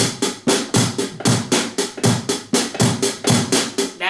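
A drum kit plays a fast, steady beat, with sharp regular hits and crashing cymbal wash repeating close and loud through the whole stretch.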